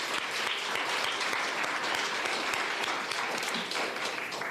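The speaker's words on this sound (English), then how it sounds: "Let's give everybody a round of applause." Sustained applause from a large audience at a South African Human Rights Day event marking the Constitution's anniversary, a dense, steady wash of clapping filling the whole stretch at even loudness.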